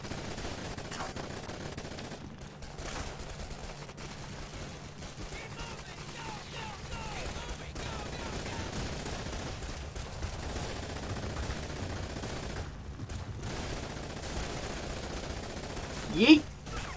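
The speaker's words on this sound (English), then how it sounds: "We'll give you covering fire." Automatic gunfire from a Call of Duty 2 World War II battle in Troina, Sicily, rattles steadily as dense continuous fusillade throughout, with a louder burst near the end and faint voices beneath.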